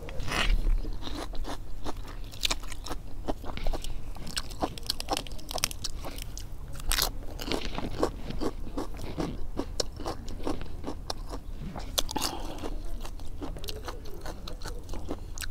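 Close, crunchy chewing and biting of Thai bamboo shoot mok eaten with shallot, with repeated moist mouth crunches and scrapes at an uneven rhythm and no talk.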